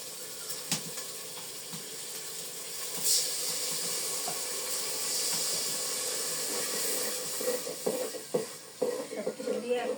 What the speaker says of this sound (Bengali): সব কিছু দিয়ে কষিয়ে নিই।